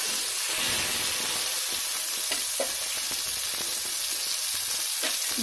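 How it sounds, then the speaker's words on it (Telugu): Chili, coriander and cumin paste fries in oil in a pan for Hyderabad chicken masala, giving a steady, loud, close hiss and sizzle with a few scraping stirs throughout. "కొంచెం బాగా వేయించాలి, బాగా వేయిద్దాం"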